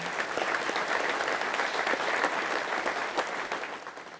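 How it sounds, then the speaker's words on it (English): Audience claps at a Michigan wheat program meeting, a sustained, even round of applause from a room of people that tapers slightly at the end. "let's give them a big round of applause and a big thank you"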